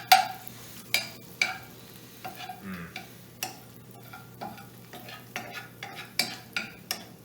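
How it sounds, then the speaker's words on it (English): A spatula stirs and scrapes a cilantro mixture in a pan over low heat, giving repeated sharp scraping and clinking strokes at an irregular pace over a faint steady hum, with no talking. "And now you can just take your spatula and start to kind of mix that up there."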